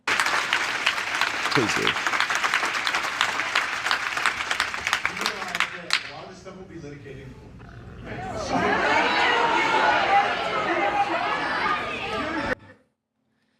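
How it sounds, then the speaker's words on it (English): An audience bursts into sustained clapping, then quiets briefly before a loud swell of cheering and shouting rises and cuts off suddenly. A short spoken phrase slips in partway through. "That's why people are cheering."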